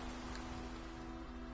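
Steady rain pours without a break in the video game The Witcher III, forming an even, dense hiss across the whole brief moment.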